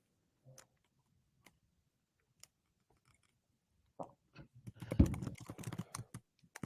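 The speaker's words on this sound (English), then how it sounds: "Oh, he's typing." Faint, sparse keystrokes tap on a computer keyboard, scattered singly at first and then bunching into a short, quicker burst of typing near the end, quiet and alone.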